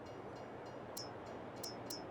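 Ambience at a train station in Farming Simulator 22, a faint low rumble with a few sharp high metallic squeals or clicks scattered through.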